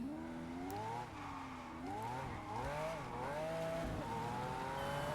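A Lamborghini Aventador SVJ in Test Drive Unlimited Solar Crown revs and drops repeatedly, its engine note rising and falling in waves with a tire squeal, steady and close under faint background sound.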